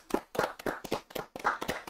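A few people clap in a studio during a Korean political talk show, the rhythmic claps close and moderately loud, coming in uneven bursts over about two seconds with no talk.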